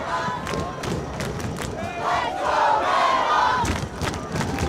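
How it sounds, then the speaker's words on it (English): Fans at a high school soccer state final between Brighton and Troy Athens roar and cheer loudly. The crowd noise swells in the middle and keeps a continuous, surging din throughout. "Crowd here getting involved."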